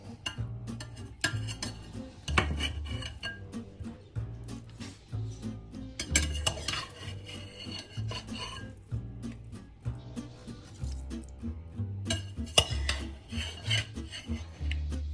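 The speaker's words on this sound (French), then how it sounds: "Je remets maintenant mes morceaux de viande et mes carottes dans la sauce." Veal pieces and carrots are stirred back into a creamy sauce for a French veal stew, making repeated close scraping and rubbing sounds with light clinks of a utensil against the pot.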